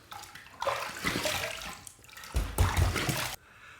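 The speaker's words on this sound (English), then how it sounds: "Second pass done, let's rinse." Tap water running close by while a razor is rinsed under it, with two loud splashing, gushing bursts separated by a short quieter gap and then stopping abruptly.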